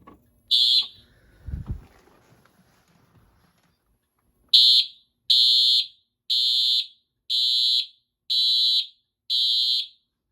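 A Simplex 4100 fire alarm system's smoke detector beeps during a walk test: one shrill electronic tone, a pause with a faint thump, then six more evenly spaced loud, piercing beeps in a steady rhythm.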